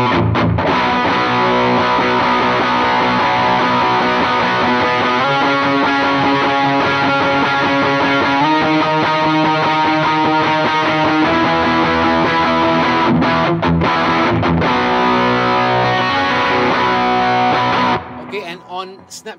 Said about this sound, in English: I'm going to kick on my TS808 PeaceHill FX Mod pedal right now